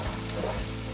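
Finely chopped onion sizzles in a hot pan, a steady dense crackle and hiss, close and loud, with no voices.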